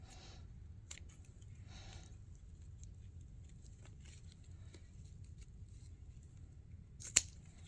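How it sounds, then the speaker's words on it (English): Several soft scissor snips through grapevine with dull scissors spread out over quiet background, ending with one louder, crisp cut near the end. "My scissors apparently need sharpened"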